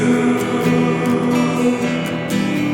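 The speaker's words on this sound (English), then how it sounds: "it's mostly just acoustic guitar and then a vocoder type vocal effect" An acoustic guitar song carrying a vocoder-style processed vocal, loud and continuous, with held harmonic tones sliding between pitches over strummed chords.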